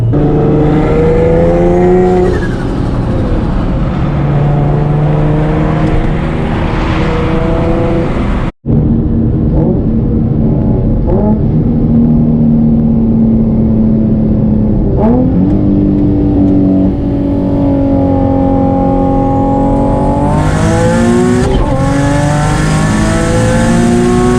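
A turbocharged Nissan 350Z engine, stock motor making over 600 horsepower, revs hard and climbs through gears at 15 pounds of boost, the loud, close drone rising in pitch between shifts with no talking.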